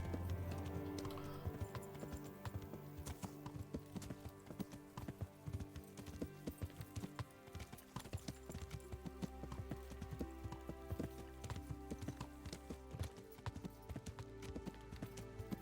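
Horse hooves clip-clop in a steady walking rhythm along a main road in Kingdom Come: Deliverance, close and fairly quiet under low game ambience, with no talk.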